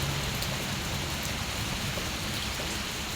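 Heavy rain pouring down in a steady, dense hiss of drops on surfaces, loud and unbroken throughout, with no voices.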